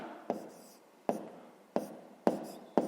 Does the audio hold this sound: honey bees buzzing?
no